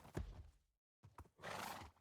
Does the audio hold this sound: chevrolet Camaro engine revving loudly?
no